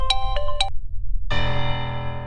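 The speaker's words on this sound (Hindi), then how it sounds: "एंडी, ये माहिर फोन क्यों नहीं उठा रहा?" A phone ringtone plays a short melodic pattern, pauses, then sounds again with a sustained chime, loud and close.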